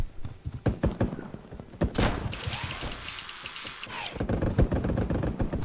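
Gunfire in a battle royale video game, a string of sharp shots and thumps spread across the clip, with a louder tonal burst in the middle.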